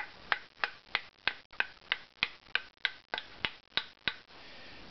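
Tap tones from a calibrated scale of quarter-sawn spruce tonewood bars for violin making, struck one after another in a steady run of about thirteen short, bright, close knocks with no talking.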